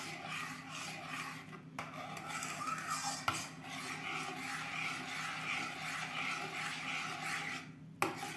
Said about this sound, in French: je continue à mélanger un peu comme ça